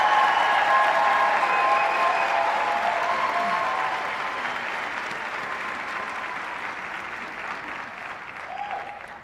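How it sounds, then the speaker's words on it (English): Sustained applause from a large audience honours nursing undergraduates at a university convocation and pinning ceremony, dense and steady clapping that fills the hall and slowly tapers off. "let's give one more big round of applause for all of our undergraduates"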